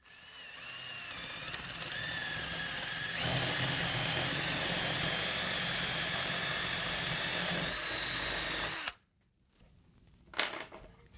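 A power drill bores steadily through two stacked wooden boards while building a contemporary nightstand, a loud continuous whirring grind that shifts pitch partway through, then cuts off abruptly, followed by a brief clatter.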